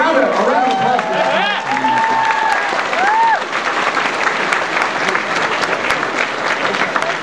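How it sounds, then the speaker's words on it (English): Sustained applause from a panel audience at New York Comic Con fills a crowded hall, steady and loud, with cheers and whoops rising over the clapping for the first few seconds. "A round of applause."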